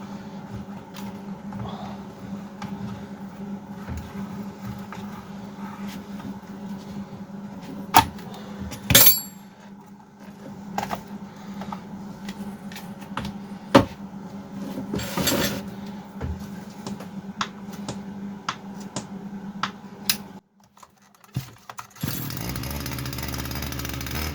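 A STIHL FS250 petrol brushcutter with a fault where it bogs when the throttle is opened is being started, with repeated clattering pull-start attempts and mechanical knocks before a steady engine-like drone takes over at the end.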